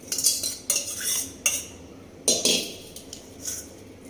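Soaked tamarind is mashed by hand against a wok, heard as a series of sharp metallic clanks and scrapes in irregular bursts, close and fairly loud, with quiet gaps between.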